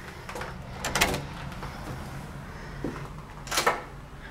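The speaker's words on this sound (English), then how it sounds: "here we go in the front door" A house's front door opens with a couple of soft clunks and a rattling latch, close by against a steady background hiss, with another knocking clatter near the end.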